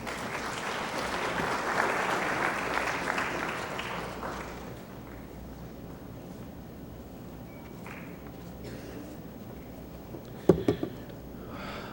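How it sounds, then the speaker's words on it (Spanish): An audience at an administrative law course breaks into loud, sustained applause welcoming a speaker. The clapping fades after about four seconds, leaving quiet room noise and a few faint taps and thumps. "Le pido los recibamos con un fuerte aplauso"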